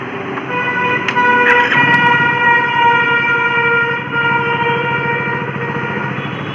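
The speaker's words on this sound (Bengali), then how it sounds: "বাইকটা অন করি।" A motorbike is started, with a few sharp clicks near the start, then runs at a steady idle that holds a constant pitch with a faint pulsing beat underneath and no speech.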